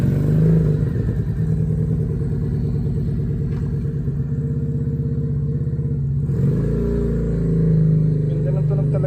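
Victorino 250i motorcycle engine on a test ride, a loud close throbbing rumble that rises in revs, dips briefly, then climbs again, with a voice talking over it.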